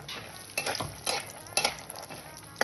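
Peanuts and sesame seeds fry in a little oil with a light sizzle, while a utensil stirs and scrapes the pan in several uneven strokes and clinks once sharply near the end.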